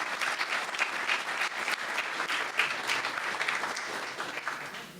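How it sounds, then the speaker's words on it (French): An audience applauds after remarks at an anniversary ceremony for a river basin syndicate, a sustained patter of many hands clapping, even and moderately loud throughout. "avant de passer la parole aux autres, les applaudir"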